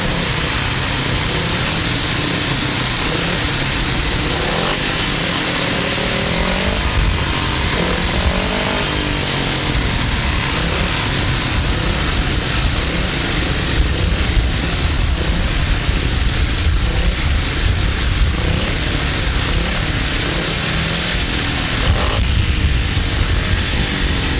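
Grasstrack racing motorcycles circle the track at the 2007 Berks Bonanza, their engines a loud, continuous buzzing drone that rises and falls slightly as they pass, with no talking.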